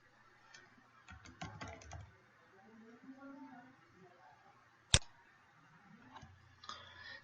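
Typing on a computer keyboard while entering a urinary tract infection diagnosis into ICD-10 coding software, heard as quiet, irregular clicking bursts at moderate distance under a faint background hum.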